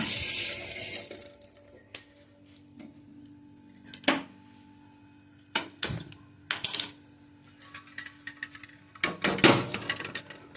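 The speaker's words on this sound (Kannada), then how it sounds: "ನೀರು ಹಾಕಿ ಬೇಯಿಸಲಿಕ್ಕೆ ಇರ್ತೀನಿ" Water poured from a tap into a pot for Mangalore-style egg curry, a brief splashing rush at the start followed by scattered clinks and knocks of utensils in a quiet kitchen.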